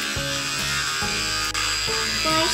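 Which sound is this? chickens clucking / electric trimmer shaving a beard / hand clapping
electric trimmer shaving a beard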